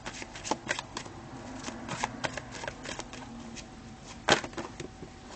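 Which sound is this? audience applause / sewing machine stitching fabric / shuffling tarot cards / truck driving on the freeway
shuffling tarot cards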